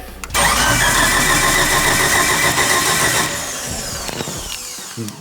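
A heavily built Mitsubishi Evo engine of around 2000 horsepower is cranked over by its starter while timing is set. A loud, close, continuous churning drone holds for several seconds, then eases in level near the end.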